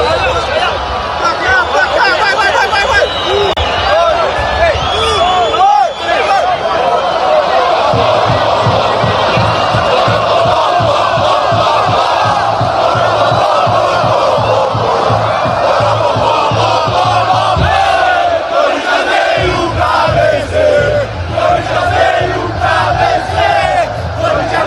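Corinthians football supporters loudly chant the poró-popó chant in unison, a massed roar of voices with rhythmic stomping or drumming underneath, sustained and energetic throughout.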